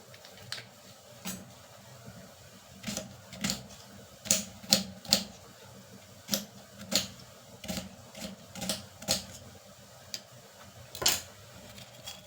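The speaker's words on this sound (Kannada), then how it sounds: "ನಾನು ಒಂದು ಅರ್ಧ ಈರುಳ್ಳಿನ ಕಟ್ ಮಾಡ್ಕೊತಾ ಇದ್ದೀನಿ" Kitchen knife chopping half an onion for tomato chutney, heard as a run of crisp, irregular taps on a board, close and moderately loud with short pauses between strokes.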